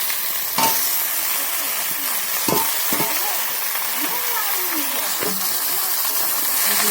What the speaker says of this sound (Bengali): এর মধ্যে হলুদ দিয়ে দেবো, দিয়ে আর একটু ভালো করে ভেজে নেবো।